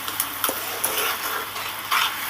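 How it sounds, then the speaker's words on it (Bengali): Chopped water spinach (kolmi shak) with a little sugar is stir-fried in a pan: a steady hissing sizzle broken by several sharp scrapes and clacks of the spatula, close and alone. "এবার আমি পাঁচ মিনিট পুরো শাকটাকে নেড়ে চেড়ে ভেজে নেব"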